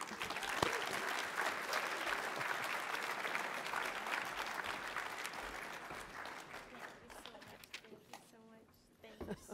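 Audience applauding at a networking conference, a steady wash of many hands clapping that fades slightly toward the end, with a few voices mixed in underneath.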